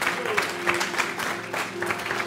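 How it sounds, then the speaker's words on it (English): A church congregation claps for the sanctuary cleaners during a sermon service, a sustained crowd of hands clapping steadily with a low steady hum beneath it. "Can we clap our hands for sanctuary cleaners?"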